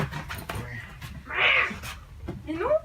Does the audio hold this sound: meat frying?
no